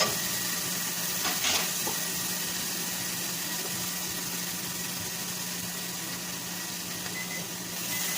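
Minced garlic, about a tablespoon, sizzles steadily in a hot pan as the base for an empanada beef filling, a continuous close frying hiss with a brief stir near the start and no talking.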